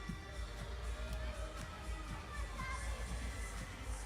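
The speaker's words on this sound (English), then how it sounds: "the crowd is pretty rowdy already" Rowdy crowd at a women's NCAA college gymnastics meet, a steady far-off wash of cheering and shouting voices with a few louder peaks, continuous throughout.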